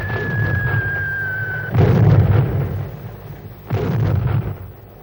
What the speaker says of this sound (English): Shrapnel shells burst in the air, spraying their deadly splinters above the open trenches.